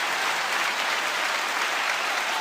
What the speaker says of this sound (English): I think this applause thing kind of sucks on this one now.